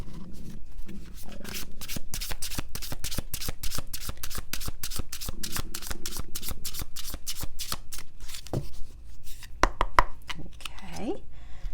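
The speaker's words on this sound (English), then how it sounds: "Let's pull some cards for those of you in separation." Tarot cards are shuffled close up in a fast, even riffle of crisp slaps that runs for about eight seconds, then a few single card snaps and slides, with brief soft talk near the end.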